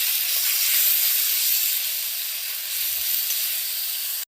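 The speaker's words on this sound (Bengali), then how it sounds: "এই সমস্তগুলিকে আমি ভালোভাবে ভেজে নেব" Garlic, tomato and ginger paste fries in a hot pan for a sole fish kalia, giving a loud, close, steady hiss that holds evenly and then cuts off abruptly.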